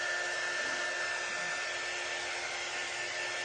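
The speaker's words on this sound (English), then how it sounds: "I want to dry all of this really, really well" A hair dryer blows steadily and close at moderate volume, drying a shimmery glittered craft project with heat, with no talking over it.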